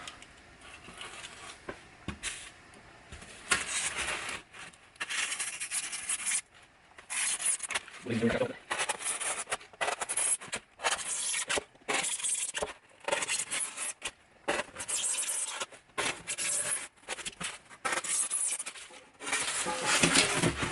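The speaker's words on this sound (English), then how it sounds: "Just take a razor blade knife." A razor blade knife slices and scrapes through insulation material for an exterior faucet freeze protector, giving repeated rasping strokes in short bursts with brief pauses, close and fairly quiet.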